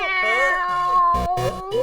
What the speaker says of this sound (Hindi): फिर से म्याऊं म्याऊं किया।